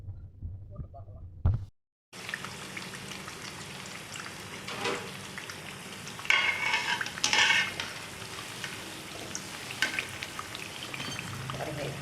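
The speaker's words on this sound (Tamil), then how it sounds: "இப்படி வெந்துட்டுருக்கு தட்டோட டிஸ்டர்ப் பண்ணாமல் விட்டுருணும்" Thattai, crisp South Indian rice crackers, deep-frying in hot oil, giving a steady close bubbling sizzle that fills the clip after a brief quiet start and swells louder for a few seconds midway.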